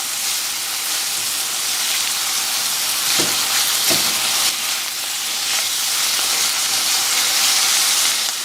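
Zucchini and garlic sauté in a pan, a continuous bright sizzle and hiss that runs steadily throughout, close and fairly loud, with a couple of faint clicks partway through.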